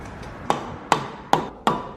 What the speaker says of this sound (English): So knocking back the axle.